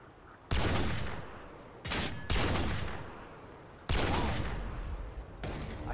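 Bursts of automatic gunfire from a first-person shooter match, several loud sustained volleys starting abruptly and cutting off, with short gaps between them.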